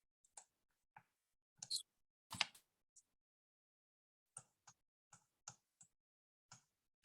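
Keys on a keyboard are pressed in sparse, irregular taps, a dozen or so separate clicks with short gaps and one quick cluster. The taps are quiet and close.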